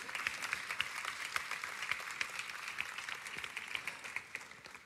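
Audience applause at a TEDx talk, moderate and fairly distant, a steady patter of many hands with a few sharper individual claps standing out, no talk over it.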